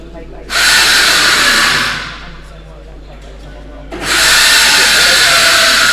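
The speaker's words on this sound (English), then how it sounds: "Apologies if you hear any drilling in the background." Power drilling during construction of a loading platform at a weightlifting competition, two loud sustained whirring bursts separated by a quieter pause, with a voice speaking nearby.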